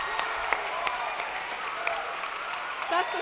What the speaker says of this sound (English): Can you give them a massive round of applause?